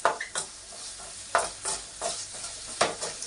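Spices and salt frying in a pan for paneer masala curry, a steady sizzle broken by several scraping stirs of a spoon, close and moderately loud with no talking.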